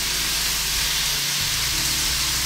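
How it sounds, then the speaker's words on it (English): Onions sizzling as they fry, brown and caramelize in a pan for a tuna-based pasta sauce, a steady close hiss with soft crackle and a low hum underneath. "onions browning and caramelizing, beautiful"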